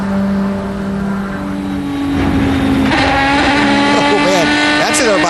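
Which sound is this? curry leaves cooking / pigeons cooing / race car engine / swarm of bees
race car engine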